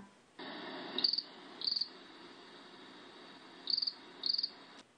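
Crickets chirp in four short, bright bursts over a steady insect drone, fairly close and alone with no talk.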